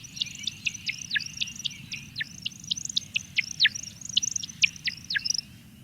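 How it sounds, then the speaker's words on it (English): Rapid, high-pitched chirps repeat in quick bursts against a soft low rumble, a bright, insistent call with brief gaps between phrases. "Hear that chirping sound?"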